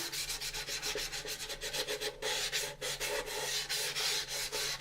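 Rapid back-and-forth rubbing of 400 grade sandpaper on a plastic model kit part, a close, steady scratchy rasp of regular strokes with brief pauses.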